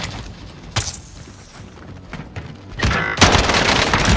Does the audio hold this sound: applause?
no